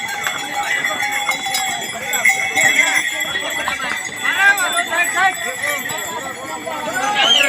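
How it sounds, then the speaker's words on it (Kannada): Horses carrying a group of riders through light rain on location, hooves clip-clopping in a steady uneven rhythm close by, with bell-like jingles and busy outdoor noise around them. "ಒಟ್ಟಲ್ಲಿ ಎಲ್ಲರೂ ಕುದುರೆ ಮೇಲೆ ಬರ್ತಾ ಇದ್ದೀವಿ"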